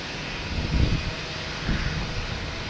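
British Airways airliner at Boston Logan Airport, a steady low engine roar heard from a distance, swelling slightly in two places, with no talk.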